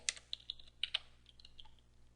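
Keys clack on a computer keyboard in a quick, irregular burst of sharp taps, close and clear against a quiet room.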